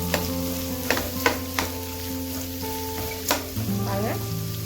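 Carrot and onion fry in a pan and are stirred through, giving a steady close sizzle broken by several sharp scrapes and knocks of the spoon against the pan.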